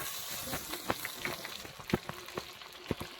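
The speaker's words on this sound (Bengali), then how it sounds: "পেঁয়াজটা একটু ভালো করে ভাজা ভাজা হবে।" Onion and capsicum fry quietly in a pan, giving a faint, steady sizzle broken by scattered small pops and crackles.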